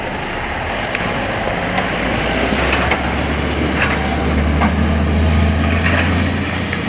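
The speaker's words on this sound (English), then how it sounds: "Center articulating tractor." A big center articulating tractor on eight tall tires pulls a tiller along a road, its engine giving a loud, steady low drone with no voices.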